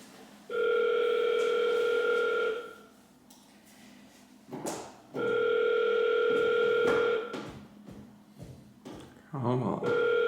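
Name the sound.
phone ringing unanswered during a cold call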